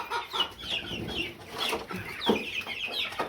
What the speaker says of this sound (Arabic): نبص على الفراخ البلدي برضو الصغيره